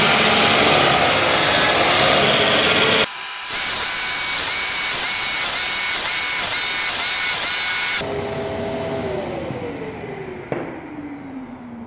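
A power saw cuts repeated kerfs into timber skirting backed by sacrificial timber, giving a loud steady whine that breaks off briefly, resumes, then spins down as the blade slows.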